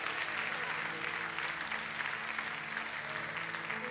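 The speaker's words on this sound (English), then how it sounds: "let's cheer it up for them and congratulate them" A church congregation claps and cheers for people heading out to be baptized, dense steady applause filling the room throughout at moderate volume.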